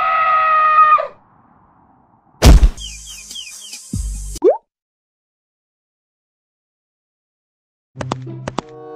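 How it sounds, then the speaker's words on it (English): A scream in a Roblox story game, a sharp voice cry at the start, followed by loud cartoonish thwacks and plops, a rising sliding tone, near silence, then a burst of clattering effects near the end. "Heard David scream."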